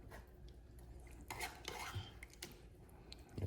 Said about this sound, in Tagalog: Ito na po natin siya haluin.